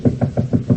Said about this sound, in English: No use knocking.